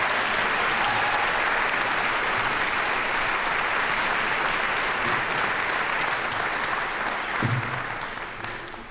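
Loud, sustained applause from a graduation ceremony audience, steady clapping that thins out and fades toward the end, with a few louder individual claps standing out.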